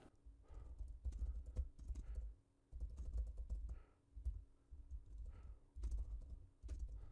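Quiet typing on a computer keyboard while entering text into an Excel spreadsheet: several short clusters of soft, close keystrokes separated by brief pauses, with no talk.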